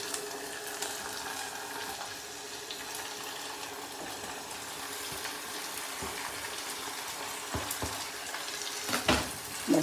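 Cucumber pieces fry in a pan for an Andhra-style cucumber, brinjal and drumstick curry, giving a faint, steady low sizzle with a few soft clinks near the end.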